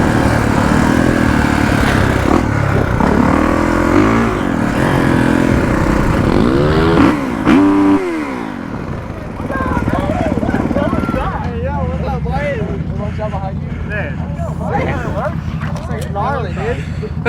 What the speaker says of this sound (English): Say the dirt bikes are good for getting around the park though.